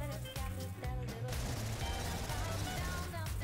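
Bursts of Stargazer SMG fire from Roblox Paragon Zombies crackle steadily across the whole stretch, dense and loud, with game music or effects layered beneath.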